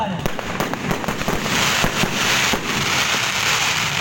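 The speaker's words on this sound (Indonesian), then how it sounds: "kembang api juga rupanya" Fireworks burst at a bikers' touring event in Rantepao, a rapid crackling series of sharp pops and bangs under outdoor crowd noise.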